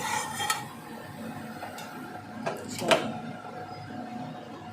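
A pot of sour tok curry is lifted off the stove in a home kitchen. Several sharp metallic clanks and scrapes of cookware ring out over low background noise, with the loudest knock near the end.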